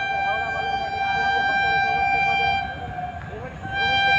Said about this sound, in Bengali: আর সামনে থেকে আসছে ফারাক্কা এক্সপ্রেস